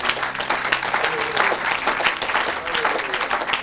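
A congregation at a French-language evangelical revival service bursts into sustained, dense applause for Jesus, a steady wash of clapping with no talk over it.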